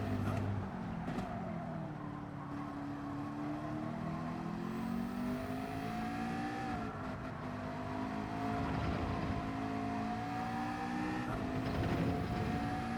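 A race car engine in Gran Turismo 7 drones and whines steadily, its pitch rising and shifting as it accelerates through gears, loud and continuous with no talking.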